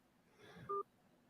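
A single short telephone keypad DTMF beep, a brief two-tone chirp pressed during a phone call's menu prompt. It sounds faint and quick against a quiet background.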